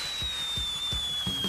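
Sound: rocket flare being fired

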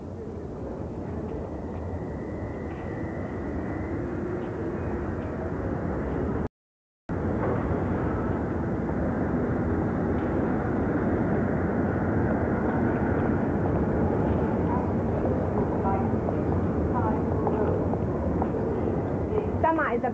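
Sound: airplane engine during takeoff

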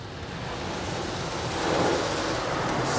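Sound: Laser Wash G5 car wash rinsing off triple foam

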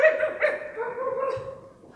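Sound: dog barking

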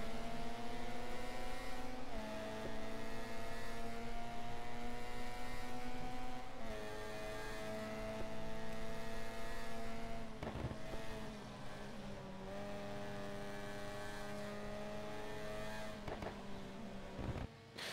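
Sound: racing cars in the video game GT Legends, Toyota Corolla

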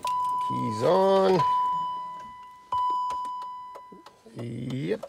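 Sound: BMW X5 E53 ignition key-on chime

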